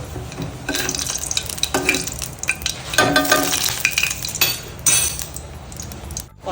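A spoon stirs food in a cooking pan at home, scraping and clinking against the metal over a steady sizzle, with repeated close strokes and no talking.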